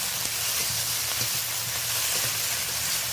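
Chopped tomato, onion and green chili sizzle in a pan for a coconut cabbage curry, giving a loud, continuous hiss with faint stirring taps underneath.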